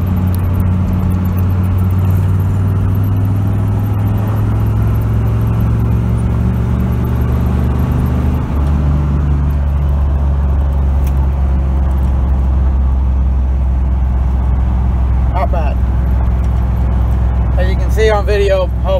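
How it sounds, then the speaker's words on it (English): A 6.5 Detroit diesel truck cruises in fourth gear, its loud, steady low engine drone holding constant with a brief shift in pitch midway and faint rattles near the end. "All right, truck's warmed up now. Cruising in fourth."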